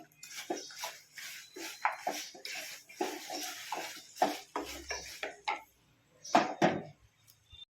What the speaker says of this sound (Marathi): आता हे गुळ सगळं मी वितळून घेते.